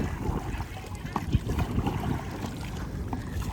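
Ocean waves wash near a kayak off a Vancouver beach, with steady rough surf and gusts of wind buffeting the microphone, a few sharper splashes standing out close by.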